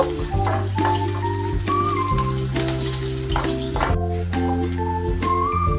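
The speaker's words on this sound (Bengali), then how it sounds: "তেলটা গরম হয়ে গেছে এখন ওই তেলের মধ্যে দিয়ে দিচ্ছি গোটা জিরে দিচ্ছি আদা কুচি দিচ্ছি লঙ্কা কুচি সামান্য একটু ভেজে নেব" Whole cumin, chopped ginger and chili frying in hot oil, a dense, loud crackle and sizzle running steadily, with a sharp scrape or tap near the middle, close-up and free of talk.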